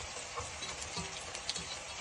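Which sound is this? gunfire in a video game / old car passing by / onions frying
onions frying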